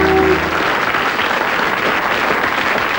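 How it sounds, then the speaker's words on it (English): A studio audience on a quiz show gives a round of applause, a dense, steady wash of clapping from many hands that holds at full strength throughout, loud and close, with no speech over it. "Round of applause for Thing."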